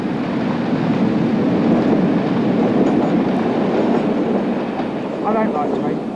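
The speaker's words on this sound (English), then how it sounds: "Here's a train. And that's an electric train." An electric train rumbles steadily past at close range, a loud continuous roar with faint rhythmic clatter of wheels on track throughout.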